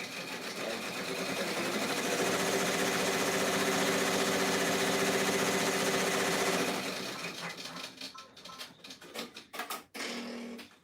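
A sewing machine stitches over a small bottom flap, running in a loud, steady rapid whir for several seconds nearby, then slowing into stuttering bursts and short stops.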